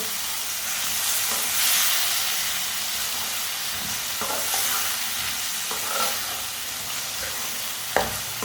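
Tomatoes and green chillies cut in large pieces cooking in a pan, with a loud, steady hissing sizzle at close range and occasional stirring scrapes and light knocks.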